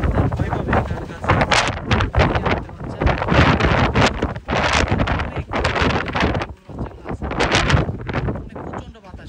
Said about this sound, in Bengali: প্রচণ্ড বাতাস আসলে